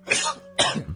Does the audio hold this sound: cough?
yes